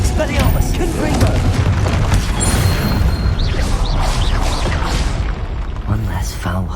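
Spell explosions burst repeatedly in Hogwarts Legacy, heavy booming crashes layered over dense battle noise, while a player shouts incantations throughout.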